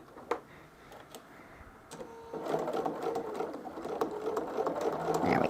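Domestic sewing machine stitching through a thick seam of a Christmas quilt, starting with a few soft clicks and then a steady, loud whirring run that grows slightly louder toward the end.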